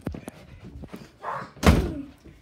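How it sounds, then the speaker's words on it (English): A door slams shut at a friend's house with one loud, sharp bang, set among quieter scattered knocks and bumps of indoor activity. "Don't slam the door!"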